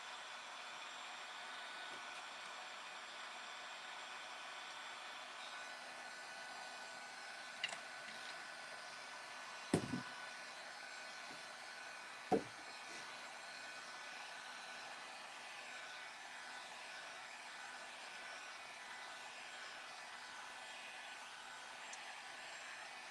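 A hair dryer blows on wet paint on a decoupage paper mache box, giving a quiet, even whirring drone that runs throughout with a few faint knocks.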